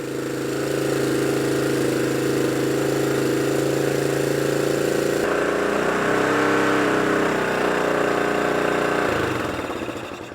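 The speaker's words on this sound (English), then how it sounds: "the bike finally started to sputter to life" A 50-year-old motorcycle engine sputters to life and keeps running loud and close at a high rough idle, its pitch and rhythm shifting partway through before it eases off near the end.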